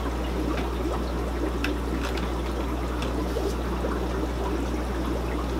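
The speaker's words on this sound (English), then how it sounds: "Let's plug it in and see how many bubbles comes out." An aquarium air pump running, with a constant low hum beneath a continuous fizz of bubbling water and scattered small pops and trickles, steady and close.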